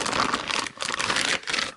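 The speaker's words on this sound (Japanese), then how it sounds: "これビニール袋から取り出してみますと" A Manfrotto 790B monopod is pulled from a plastic bag, giving loud, close crinkling and rustling in continuous bursts with a couple of brief pauses.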